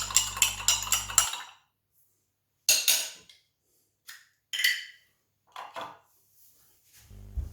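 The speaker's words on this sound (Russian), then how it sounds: "Через 20 минут еще раз перемешиваем." Utensil stirring a lactic acid sourdough starter in a container, a rapid series of scraping clinks, then several separate scraping bursts between silent pauses, close and moderately loud.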